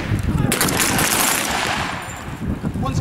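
Continuous machine gun fire crackles loudly and densely throughout a military fire-and-manoeuvre demonstration by an air assault engineer regiment at an open day in Woodbridge, with overlapping bursts forming a near-unbroken fusillade.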